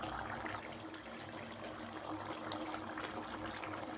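Soft, steady bubbling and simmering of mushroom gravy in a pan, a low continuous churn with no voices.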